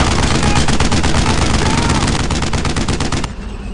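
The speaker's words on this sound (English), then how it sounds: "Suppressing fire!" Sustained, loud machine-gun fire from a World War II shooter game, dense rapid bursts filling the whole stretch before easing off at the end.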